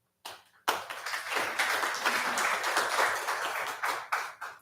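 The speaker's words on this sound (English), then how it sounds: "please hold your applause here and just let the speakers speak" Applause from the public at a South Gate city council meeting breaks out abruptly after a short opening clap, then continues as steady, moderately loud clapping from a crowd in a hall.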